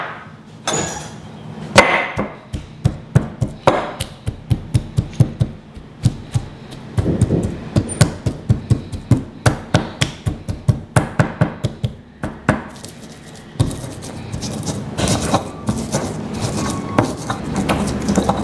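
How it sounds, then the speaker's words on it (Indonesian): Spices are ground in a stone mortar and pestle: repeated pounding and grinding of stone on stone, a steady rhythmic series of knocks with scraping in between, close up and continuous. "Ini kita ulek aja."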